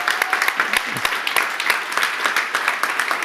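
Scattered applause from a conference audience for an absent social media organiser at a closing session, with individual claps audible in a steady patter and a faint voice underneath.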